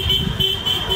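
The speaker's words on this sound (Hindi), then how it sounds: "हॉर्न कमी मारणार आहे भाऊ।" A vehicle horn sounds on a road trip toward Bodhgaya, a loud sustained honk lasting about a second over traffic noise.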